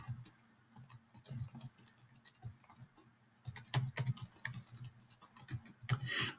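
Rapid, uneven keystrokes rattle on a Dvorak-layout computer keyboard, close and fairly quiet, with short bursts of clicking broken by brief pauses.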